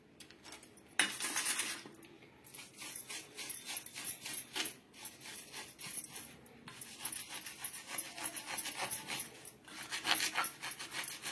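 Silver anklets being scrubbed with toothpaste, a steady close rasping and rubbing with small metallic clinks running continuously, without talk.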